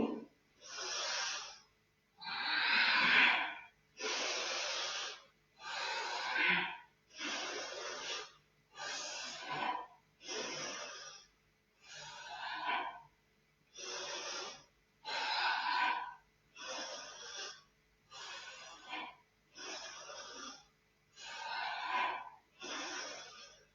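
Quick, rhythmic breathing during a yoga session, roughly a dozen forceful breaths in steady succession, each a loud, close, hissing puff of air with short pauses in between, and no talking.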